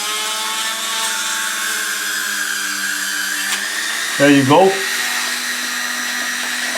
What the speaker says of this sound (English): you take your Dremel and you make a nice little center spot in it